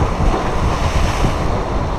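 Wind and sea surf roar at Cape Tarkhankut on the Crimean coast, a steady loud rush of breaking waves and gusting wind buffeting the microphone throughout, with no voices.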